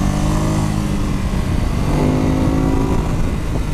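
Ducati Supersport 950 middleweight motorcycle engine revs up and down nearby, a throaty rising and falling drone with shifting pitch, heard alone without talk.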